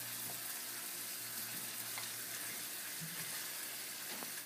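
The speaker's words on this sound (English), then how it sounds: "I'm going to mix that all together and let it simmer for 15 minutes" Tex Mex lasagna beef filling simmers in a pan, putting out a soft, continuous low sizzle and bubbling at moderate distance, with a few faint clinks and no talking.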